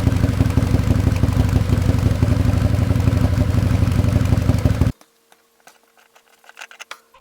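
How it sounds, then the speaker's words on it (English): Can-Am Maverick Max UTV engine idling while warming up, a loud, close, steady pattering rumble that cuts off abruptly partway through, leaving faint scattered clicks and knocks. "We'll start by warming up the bike."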